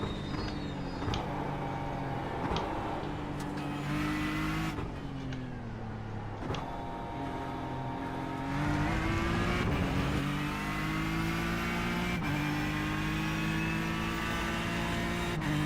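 Audi and Porsche LMP1 prototype race cars in a racing video game roar continuously at high volume, their engine pitch climbing and then dropping sharply at each gear change, with several cars overlapping.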